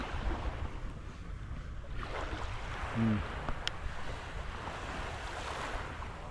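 Sea waves wash steadily onto a sandy beach in Zambales, a continuous broad surf hiss mixed with wind buffeting the microphone, with a brief faint tonal sound in the middle.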